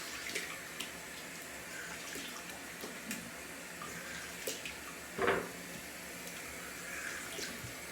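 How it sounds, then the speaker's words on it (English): Tap water runs steadily into a sink while someone rinses off after a straight-razor shave, a faint continuous splashing with small splashes and one brief louder gush. "now I'm gonna rinse off"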